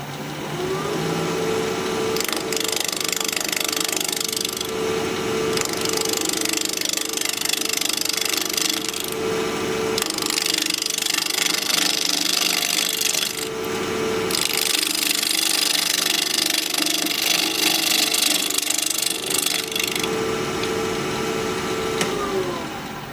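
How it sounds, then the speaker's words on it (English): Small wood scraps spun on a wood lathe at 1500 RPM and cut with a 1/2-inch bowl gouge, giving a loud, steady mechanical drone with rough scraping bursts that come and go over about twenty seconds, nearby and without talk. "We're going to be turning at 1500 RPM, 1/2-inch bowl gouge"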